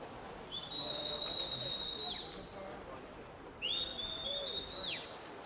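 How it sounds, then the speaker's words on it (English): A swim coach's whistle sounds at a swimming race heat, two long shrill blasts several seconds apart, each bending down in pitch at the end, heard at a moderate distance. "the coach's whistle there"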